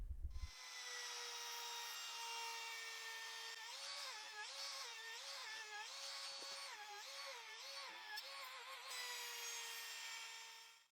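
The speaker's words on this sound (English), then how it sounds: "Next, I will use the router with this 45-degree bit to bevel all the edges." A router fitted with a 45-degree bit bevels wooden edges, whining loud and steady, its pitch dipping and wavering repeatedly as the cut loads up, then spinning down at the end.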